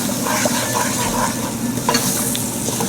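Chili paste for coconut salmon fries in a pan with a steady close hiss and crackle, stirred now and then, with faint scraping and no voices.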